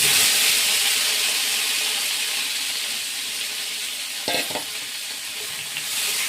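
Potatoes and capsicum fry together in oil with tempered spices, giving a loud, steady sizzling hiss throughout, with a brief stirring clatter near the end.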